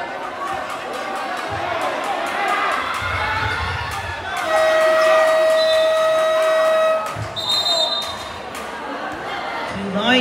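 Crowd noise fills a Mayapa covered court during a lowland barangay championship basketball game: steady chatter and shouting swell into cheering, with a loud sustained horn-like tone in the middle and ball bounces scattered through the din.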